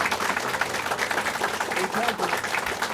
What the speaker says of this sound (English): if we can recognize them and give them a round of applause